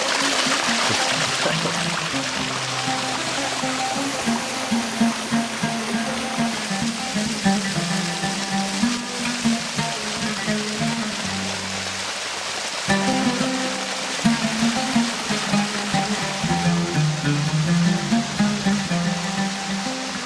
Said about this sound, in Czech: A tady jsme si zastavili, protože jsme našli vodu.